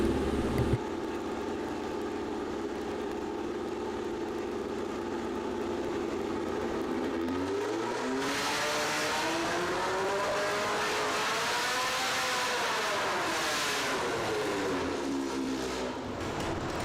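A 1641 cc engine on a dyno pull at an engine competition, held at a loud steady drone and then rising and falling in pitch as it revs hard. The sound is continuous and close, with no talk.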